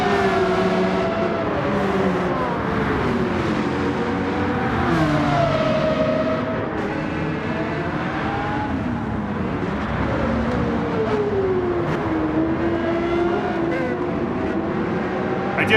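A Ferrari Enzo engine in the video game Gran Turismo 7 wails steadily at high revs, its pitch rising and dipping through gear changes in a continuous loud drone.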